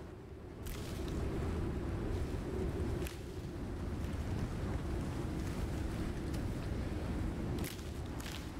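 Strong wind blows through the jungle in the survival game Icarus, a loud, continuous roaring rush with gusts that swell and ease over several seconds. No one talks.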